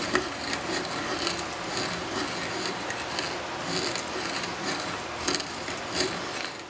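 A hand brace and bit with a lead screw bores into wood, making a steady scraping, rasping grind that carries on continuously with light rhythmic swells as the bit turns and curls chips out.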